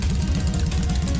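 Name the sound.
internal combustion engine running in a video game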